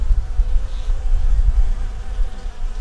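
A dense, steady low buzz of many honey bees humming together in a hive, close and continuous with no voices.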